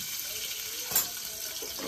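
Garlic sizzling in hot oil for tempering in a home kitchen, a steady soft hiss and crackle close by, with one brief clatter partway through and no talking.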